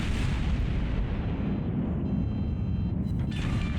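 Warship main guns firing in World of Warships, a deep heavy boom that rumbles on and slowly fades over several seconds.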